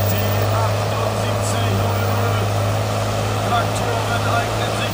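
A John Deere stock tractor straining at a tractor pulling event in the woods, a loud steady engine drone with a strong low hum that stays constant throughout, heard under a commentator's voice.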